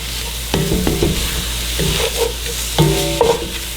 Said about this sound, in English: we're just gonna stir this around a little bit